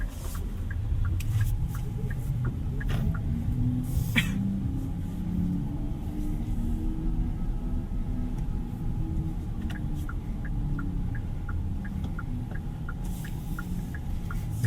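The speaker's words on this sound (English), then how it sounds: "So it has artificial engine sound." A Hyundai IONIQ 6 GLS makes a synthetic engine sound while driving, a soft low hum and rumble inside the cabin with faint periodic chimes over the road noise.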